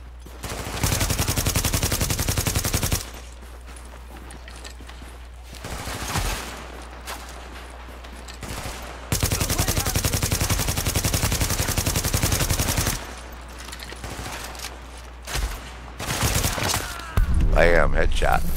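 Gunfire in The Division video game comes in long bursts of rapid automatic shots, loud and close, separated by quieter stretches with scattered sounds, ending in a final burst.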